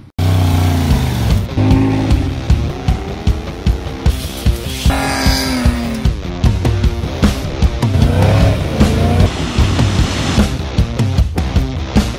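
A Jeep on 40-inch tires drives past with a loud, continuous engine roar that rises and falls as it accelerates, close by, with no talking.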